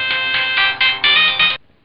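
A phone ringtone plays loud and close as a bright electronic melody of several pulsing tones, stopping abruptly after about a second and a half.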